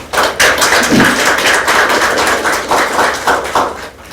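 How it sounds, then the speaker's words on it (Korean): Applause from a seminar audience at a Korean forum on an anti-discrimination bill, welcoming a theology professor to the podium: a steady, dense patter of clapping that runs for several seconds and slowly thins out. "큰 박수로 맞으시죠"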